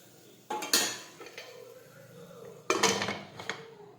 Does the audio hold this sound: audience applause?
no